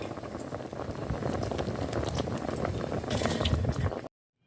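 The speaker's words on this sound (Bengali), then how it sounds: "এবার এই দুধ পুলির মধ্যে পরিমাণ অনুযায়ী চিনি দিয়ে এটাকে বেশ কিছুক্ষণ ফুটিয়ে নেব।" Milk puli with sugar simmering in a pot, a steady close bubbling and gurgling with soft popping, even in level throughout, then cutting off abruptly.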